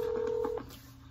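Telephone dialing on a recorded cold call: a sustained dial tone breaks into a short run of keypad beeps before cutting off, leaving faint line hiss.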